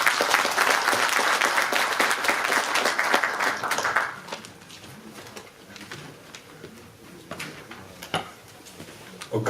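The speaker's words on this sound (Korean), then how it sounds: "큰 박수 보내주시기 바랍니다" Audience at a book concert for a preliminary candidate gives a burst of dense applause that stays loud for about four seconds, then fades to scattered claps and room noise.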